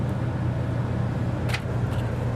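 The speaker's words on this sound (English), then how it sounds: "I do have the AC on high" Air conditioner on high in a Winnebago Navion 24T RV: a steady, close, broadband whoosh with a low hum underneath, constant throughout with no talk.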